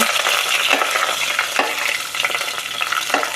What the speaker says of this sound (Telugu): పోపులన్నీ వేసుకొని కొంచెం దోరగా వేగనిద్దాం ఆవాలు జీలకర్ర పచ్చిశనగపప్పు